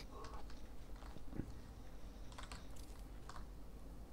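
Computer keyboard typing during a Gears 5 co-op gaming session, a few scattered soft clicks and taps at moderate distance over a steady background hum, no talking.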